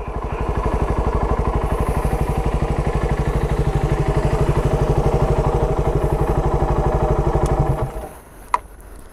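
A Raider 150 Gen1 motorcycle engine bored to 172cc idling during break-in, a loud, close, steady rapid single-cylinder thumping that holds for about eight seconds before cutting off, followed by a sharp click.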